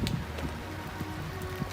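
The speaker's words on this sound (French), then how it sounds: "C'est là la pluie." Steady rain with gusting wind outdoors in Slovenia, a dense constant hiss and low rumble filling the whole stretch at moderate loudness, with no voices.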